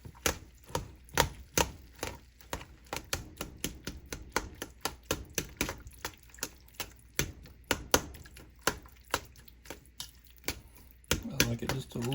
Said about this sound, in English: let's get those tomatoes chopped up a little bit